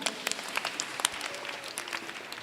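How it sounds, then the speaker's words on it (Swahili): Scattered, moderately distant applause for children at a Kikuyu church service, uneven claps from a congregation in a reverberant hall. "Tupigie watoto wetu makofi."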